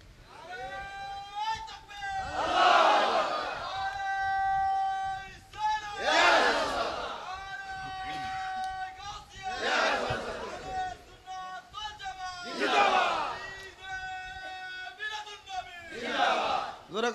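A crowd at a Milad-un-Nabi religious gathering chants takbir in loud, shouted unison bursts, five of them about every three and a half seconds, rising over a steady amplified backdrop.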